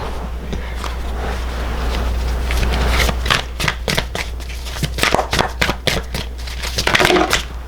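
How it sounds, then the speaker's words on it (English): A deck of tarot cards is shuffled by hand for several seconds, a dense run of crisp riffling snaps and slaps up close, growing choppier toward the end with no one talking. "let me just get into it and shuffle it up"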